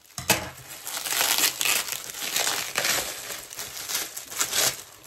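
Bubble wrap packaging being crumpled and torn close up, a steady run of crackling rustles with sharper bursts, no voices.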